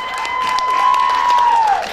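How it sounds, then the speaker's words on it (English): A short burst of audience clapping at a Sorghum Festival pageant, brief and fairly close, overlaid by a sustained whistling tone that slides down at the end. "Give her a round of applause."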